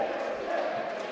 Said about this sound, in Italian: il tifo organizzato danese continua a cantare davvero fino alla fine